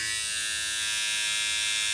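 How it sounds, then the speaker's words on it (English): Philips Norelco Bodygroom 7100 (model BG2040) running on its foil shaver side, a steady, bright electric buzz with a bright, hissy edge, close and continuous for two seconds with no talk. "As far as noise, here's the foil shaver side."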